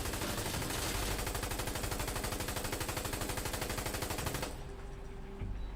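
Sustained automatic gunfire from Insurgency: Sandstorm, a rapid, dense stream of loud shots with echo that stops abruptly near the end, leaving a quieter reverberant tail.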